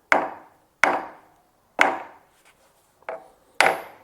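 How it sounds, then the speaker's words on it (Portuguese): A bronze hammer strikes a gear on a Jeep Willys five times at uneven intervals, each blow a sharp, close knock that dies away quickly, with no talk. "Eu tô batendo na engrenagem aqui,"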